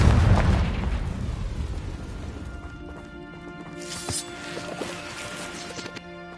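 A Confringo fire spell bursts in Hogwarts Legacy with a loud, heavy explosive blast at the start that rumbles and fades over a few seconds, followed by quieter clanks and a sharp impact.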